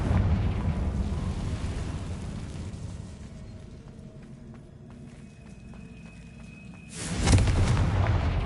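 A Confringo blasting spell explodes in the video game Hogwarts Legacy, a loud rumbling blast fading into a quieter lull before a second sharp, bright burst near the end.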